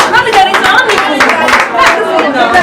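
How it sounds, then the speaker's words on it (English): Guests at a birthday ceremony clap together in a brief burst of scattered handclaps, mixed with a voice talking over them throughout. "a hand of applause for yourself."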